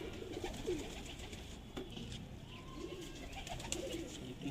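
Pigeons cooing during feather treatment to remove parasites, soft low repeated coos from several birds over a faint steady background, fairly close with no talk.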